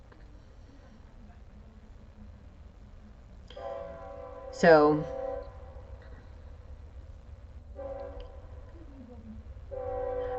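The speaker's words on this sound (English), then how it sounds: "Take that train as confirmation." A passing train sounds its horn in repeated blasts, with a sharp loud burst near the middle, under faint background noise and a brief spoken word.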